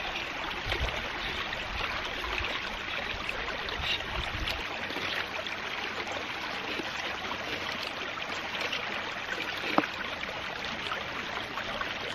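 Water rushes and gurgles steadily nearby as it flows from a flume into a ram pump, a continuous broadband flow with occasional small splashes and a faint low thump early on.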